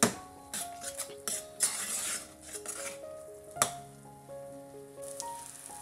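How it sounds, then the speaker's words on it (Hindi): Dry spices roast in oil over a low gas flame for rajma masala, a quiet soft sizzle broken by light spoon stirring and clinks against the pan. "अब इन मसालों को ना गैस की सिम फ्लेम पर हम थोड़ी देर भूनेंगे"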